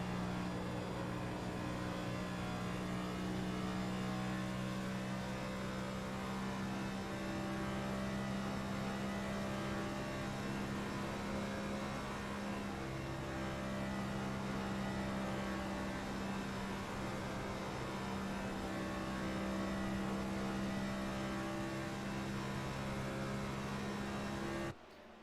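Onboard stock car engine in a Cup Series racing video game lapping Kentucky Speedway, a loud continuous droning roar with steady harmonic whine that dips slightly as the throttle lifts into the corners, close and alone throughout.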